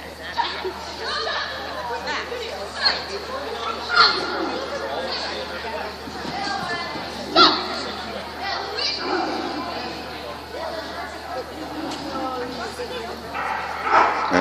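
Dog barks and yips ring out in scattered bursts at an agility trial over a busy, echoing crowd with ongoing chatter and talk in the background.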